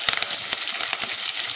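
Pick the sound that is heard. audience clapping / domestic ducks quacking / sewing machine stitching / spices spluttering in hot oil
spices spluttering in hot oil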